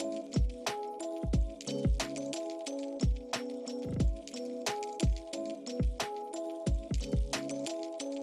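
Banana and flour batter for a no-bake banana bread being mixed in a bowl, with rhythmic wet squishing and clicking utensil strokes repeating roughly every second, quiet and close with a faint melodic backdrop.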